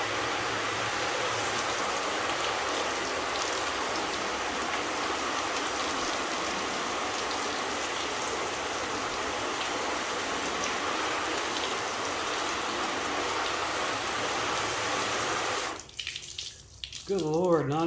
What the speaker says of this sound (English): Rinse my hand off, so I'm not wearing gloves.